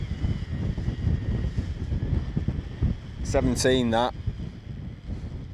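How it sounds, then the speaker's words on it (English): Wind gusting at a tarn wild camp, a constant loud rushing roar buffeting the microphone, with someone speaking briefly partway through. "every now and again we get a gust coming through, which probably does go over 20"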